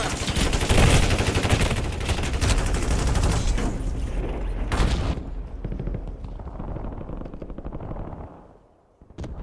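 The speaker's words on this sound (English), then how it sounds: "Enemy dropping into the AO. Taking fire." Dense, sustained automatic gunfire and explosions from a Warzone match fill the opening seconds, loud and overlapping, then thin out to scattered distant shots before a brief lull at the end.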